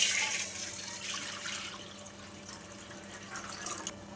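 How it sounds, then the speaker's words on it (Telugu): Boiled and cooled milk pours into a kadai in a steady, close liquid stream with gurgling and splashing, strongest at the start and holding on at a moderate level throughout. "ఇప్పుడు ఇదే కడాయిలో మనము 1 లీటర్ వరకు ఇలా కాచి చల్లార్చుకున్న పాలను కూడా వేసుకుందాం"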